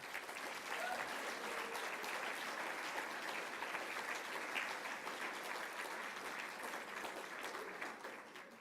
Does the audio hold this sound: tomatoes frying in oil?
no